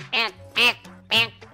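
Three loud, nasal cartoon duck quacks, evenly spaced and close up, in an animated fox cartoon, with no other sound between them.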